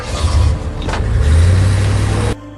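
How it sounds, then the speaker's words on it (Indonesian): A car accelerating hard in an action film, a loud, steady engine roar that builds and holds strong low rumble before cutting off abruptly near the end. "kemudian ia tancap gas dengan mobilnya"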